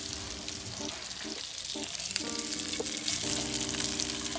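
Fish searing in butter in a pan, a steady close sizzle with bursts of higher hiss and some clinking tones from cookware, no voices.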